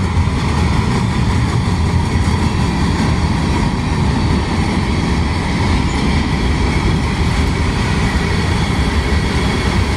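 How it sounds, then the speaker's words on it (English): A freight train with a refrigerated boxcar rumbles past close and loud, a dense, steady roar of wheels and cars that holds without a break. "That was a refrigerated boxcar."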